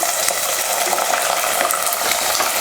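Small shallots and whole garlic cloves hit hot oil with fenugreek seeds and curry leaves, giving a loud, steady sizzle with stirring scrapes in a pan for Tamil fenugreek kuzhambu.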